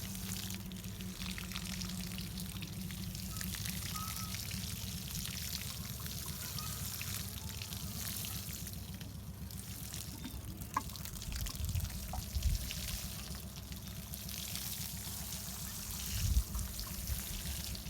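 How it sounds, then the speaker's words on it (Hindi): Water poured slowly onto soil over freshly sown methi (fenugreek) seeds in a Thai village garden, a steady soft trickle and patter running continuously and fairly quietly, with a few small splashes near the end. "अब हमने इसमें पानी डाल दिया।"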